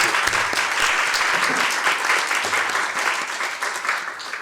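A conference audience at a women-and-media event applauds warmly and continuously, the clapping holding steady for several seconds before easing slightly toward the end.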